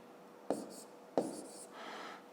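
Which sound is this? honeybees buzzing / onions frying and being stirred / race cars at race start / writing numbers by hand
writing numbers by hand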